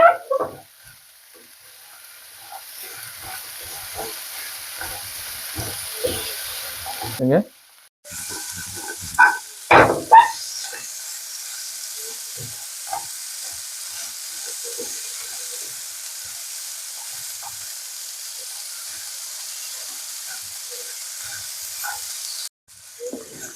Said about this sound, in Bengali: এই ঘিয়ের মধ্যে ভেজে নেব